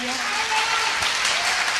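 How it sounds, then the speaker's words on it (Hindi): Dense, steady clapping from a crowd fills the whole stretch, with a murmur of voices faintly underneath. "मैं चाहूंगा सर के लिए एक जोरदार तालियां।"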